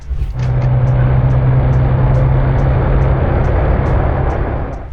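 A loud Triumph Speed 400 motorcycle engine roars steadily close by, a thick rumbling drone with rhythmic pulses, as if revving and holding high.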